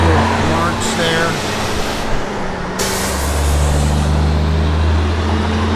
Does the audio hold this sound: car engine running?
yes